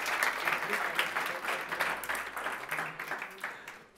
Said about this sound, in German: Dafür bitte nochmal einen ganz, ganz kräftigen Applaus.